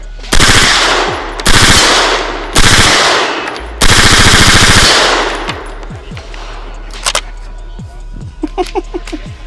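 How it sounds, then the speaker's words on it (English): Full-auto gunfire rings out at an outdoor shooting range in four loud, sustained bursts, one after another and each ending abruptly, followed by scattered lighter single shots and clangs. "It is so fun every time to shoot a full auto."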